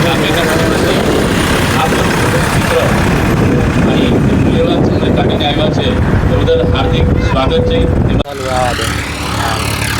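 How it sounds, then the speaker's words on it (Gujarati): A Massey tractor roars at a village tractor competition, its loud, steady engine drone mixed with wind buffeting, with voices nearby and a brief drop in level near the end. "જો મિત્રો આજે ટ્રેક્ટરની હરીફાઈ છે,"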